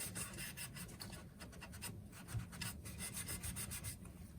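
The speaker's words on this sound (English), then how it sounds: "then I rub it on, making sure get down in the cracks" A cut-up cloth rubs finish into a wooden blanket ladder, working down into the cracks with soft, steady back-and-forth scrubbing strokes, close and quiet.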